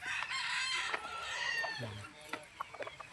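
A Polespark Gray gamefowl rooster crows on a farm in Tagaytay City, a fairly faint call over a busy outdoor background with a few sharp knocks and scattered noises toward the end.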